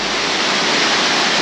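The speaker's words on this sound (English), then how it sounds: "The water, so this is like a waterfall." A waterfall roars without pause through a narrow rock canyon in Jasper National Park, a loud, dense, close wash of rushing water with no voices over it.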